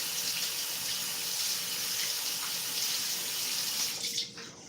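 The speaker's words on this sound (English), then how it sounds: "Let's rinse this off." Tap water runs steadily onto a rag being rinsed in a sink, a continuous close splashing hiss that cuts off abruptly near the end.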